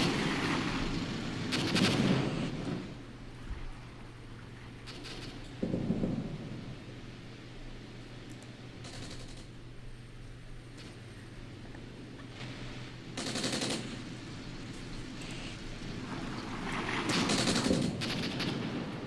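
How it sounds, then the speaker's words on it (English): An artillery barrage in the Armored Brigade war game: heavy booms and rumbling blasts roll in at irregular intervals over a constant low battlefield drone, some near and some distant. "tremendous amount of artillery coming in, guys, from the enemy side"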